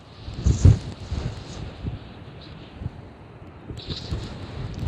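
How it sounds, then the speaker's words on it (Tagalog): Strong wind gusts buffet the microphone outdoors near shallow water where shrimp are being caught, giving uneven low rumbling blasts with quieter stretches between them. "Sobrang lakas ng hangin"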